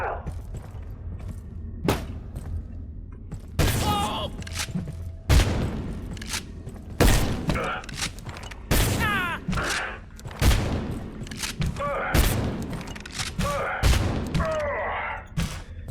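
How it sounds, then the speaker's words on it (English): Bursts of gunfire in the survival game Abiotic Factor ring out in a rapid series of loud, sharp shots spread across the clip, with brief quiet gaps between volleys. "Okay, took more shots than I really wanted to"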